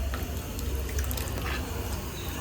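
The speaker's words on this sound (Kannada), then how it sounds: "ಸ್ವಲ್ಪ ಹುಣಸೆ ಹಣ್ಣಿನ ರಸ ಸೇರಿಸ್ಕೊಳ್ಳೋಣ." Tamarind water is poured into a Malabar spinach curry, a steady close splashing trickle of liquid running alone without pause.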